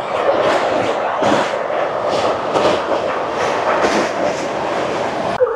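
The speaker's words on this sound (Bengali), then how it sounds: "আমাদের ট্রেন এই মুহূর্তে এসে পৌঁছেছে" The Amrit Bharat Express, running from Malda to Bangalore through Andhra Pradesh, rolls along the rails with a loud, continuous rumble and a rhythmic clickety-clack of wheels over joints, heard from inside the train.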